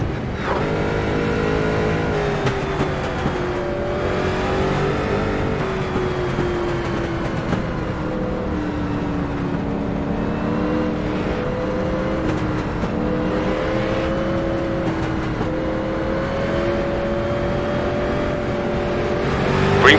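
iRacing Street Stock cars at Southern National roar loudly together as the race restarts, engines rising and shifting in overlapping harmonic drones for a sustained stretch, no talking.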